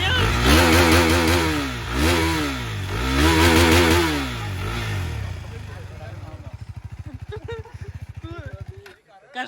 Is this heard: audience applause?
no